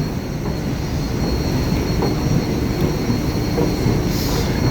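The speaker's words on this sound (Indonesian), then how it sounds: "Jadi ini aku mau naik kereta layang ini ke Terminal 3." An elevated skytrain rolling toward airport Terminal 3 at Soekarno-Hatta, a steady loud rumble of wheels on rail with a continuous broadband roar and faint squeal, heard from inside the car.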